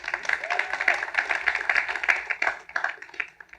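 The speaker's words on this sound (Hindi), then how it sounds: "ताली हो जाए इस बात पे।" An audience claps and cheers at a live Bollywood talk event in Dallas, a short burst of applause that is mixed with voices.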